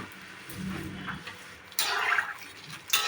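Water pours from a jar into a pan for cooking moong dal with drumsticks, giving short gushing splashes in two or three bursts at moderate volume, with no talking.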